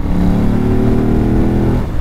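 A 2006 Ducati Monster S4RS pulls hard in sixth gear from about 4000 rpm at highway speed, its steady engine drone loud and close for a couple of seconds before easing off near the end.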